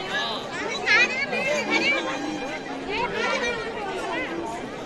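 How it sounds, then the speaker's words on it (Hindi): Crowd bustle at a small village fair on Makar Sankranti during the Ghughutiya festival: a dense, continuous babble of overlapping adult and children's voices, close by and fairly loud. "तो दोस्तों यहाँ पे बहुत ज़्यादा भीड़ हो रही है और वैसे यहाँ पे आज एक मेला भी लगता है"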